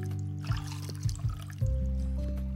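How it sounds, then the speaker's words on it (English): Water flowing from freshly placed water sources in a block-building video game, a soft trickling stream with a few splashy bursts of liquid over a steady low background tone. "Now, place in your water sources from this bottom side."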